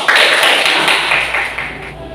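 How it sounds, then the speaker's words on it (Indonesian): Classroom applause from students, a loud, close, dense burst of clapping that holds steady for about two seconds and then eases off slightly. "tepuk tangan untuk kita semua"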